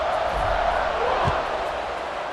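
Stadium crowd noise from EA Sports College Football 26 during a kickoff, a steady broad roar of fans holding at a constant level for the whole stretch, with a brief low thump partway through.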